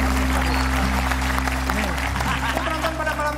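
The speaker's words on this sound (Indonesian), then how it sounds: "kalau mau tepuk tangan silakan" Clapping from a talk show studio audience, dense and steady throughout, layered over a constant low hum with faint voices and a thin musical tone underneath.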